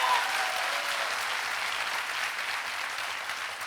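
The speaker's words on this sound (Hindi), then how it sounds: "तालियां कमजोर है दोस्तों" Steady audience applause fills an auditorium during a motivational talk, a continuous wash of many hands clapping that holds at an even level and fades slightly toward the end.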